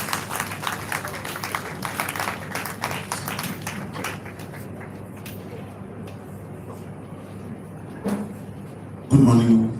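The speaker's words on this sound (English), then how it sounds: "Can we give him a round of applause, please?" A crowd claps in a dense, sustained round of applause at an ophthalmology faculty lecture, gradually thinning out, with a louder burst of sound near the end.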